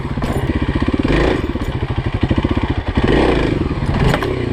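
Kawasaki KLX 351 motorcycle engine during wheelie practice, loud and close, with a rapid pulsing exhaust beat that rises and falls as the throttle is worked, plus some clatter.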